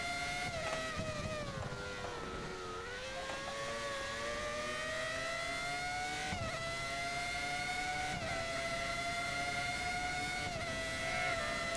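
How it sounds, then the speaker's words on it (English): A Formula 1 car engine in the F1 2013 racing video game at Imola, revving loudly and continuously with a high sustained whine that rises and dips as the car spins its wheels, with no talk. "Just listen to the engine."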